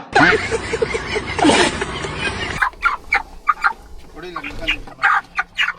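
Fowl calls on a farm, first under dense broadband noise, then a run of short separate clucks and squawks, close and fairly loud, with gaps between them.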